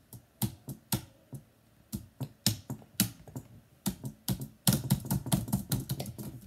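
Fingers tap at a computer keyboard in uneven bursts, with sharp close keystrokes, short pauses, and a quicker flurry of typing near the end.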